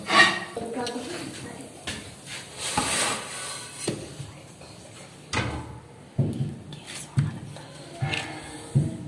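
Tawa pizza being cut on the griddle, with scattered scraping and knocking of a utensil against metal in irregular bursts, near and moderately loud, with background kitchen clatter.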